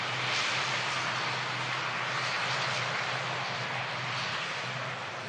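Ryanair Boeing 737 jet at Manchester Airport, engines giving a steady, loud broadband roar with a low hum underneath, holding constant throughout without pause.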